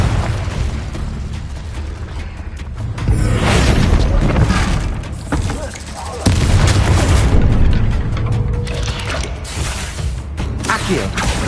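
Confringo fire spells from Hogwarts Legacy burst in a rapid series of loud, booming explosions with crackling and shattering debris, layered over dense creaking combat noise with hardly a pause.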